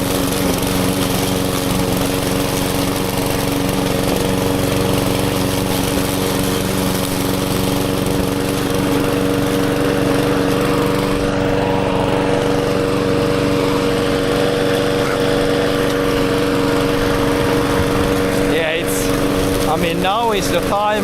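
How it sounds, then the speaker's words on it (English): Lawn mower running loudly and steadily while cutting grass outdoors, with a constant engine drone close by throughout and a few brief clunks near the end. "Just mow a little bit and let a little bit just grow."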